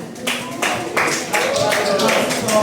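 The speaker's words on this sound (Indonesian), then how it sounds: "ya tepuk tangan untuk kelompok satu" Classroom applause for a student group after their presentation, scattered clapping in a few bursts with a voice talking over it.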